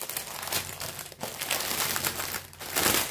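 Plastic packaging of a cross-stitch kit being torn open and handled, a steady close crinkling and crumpling that runs throughout with no talking.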